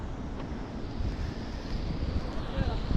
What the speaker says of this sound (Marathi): लाटा मस्त येतात, आवाज पण मस्त आहे.